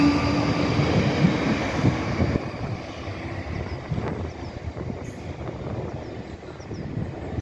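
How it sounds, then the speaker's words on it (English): Train passing near Barnes station in London, a broad rumbling roar with rushing wind noise, loud and close at first and then easing slightly while it continues steadily throughout. "there's a train."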